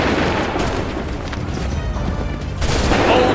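Massed musket volleys in an Assassin's Creed III Battle of Bunker Hill scene, loud booming fusillades rolling together in dense, echoing bursts, with a heavier burst near the end.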